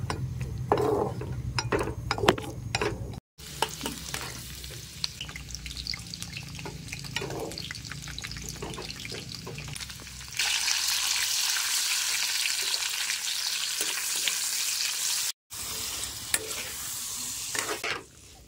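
A new utensil scrapes and stirs vegetables frying in a pan in a village kitchen in Arunachal Pradesh. Rhythmic scraping strokes come first, then a loud, steady sizzle fills the rest, with no talking.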